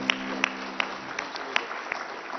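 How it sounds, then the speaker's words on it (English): Audience applause at an Indian awards stage event, a steady dense wash of clapping with a few sharper claps standing out, moderately loud. "Big round of applause,"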